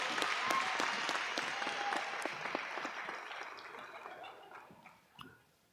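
Applause from a graduation audience welcoming a speaker, dense and steady at first, then thinning and fading over several seconds with a few scattered claps near the end.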